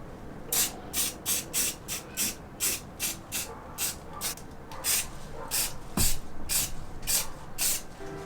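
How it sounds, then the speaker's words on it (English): Rust-Oleum spray paint hisses onto raw metal on a van window install in short, repeated bursts, about a dozen sharp sprays separated by brief pauses, close and fairly loud. "Now just spray some Rust-Oleum to stop any potential rusting of these metals here"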